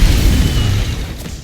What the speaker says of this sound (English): its alternate fire creates a large explosion that's really great for getting out of tight situations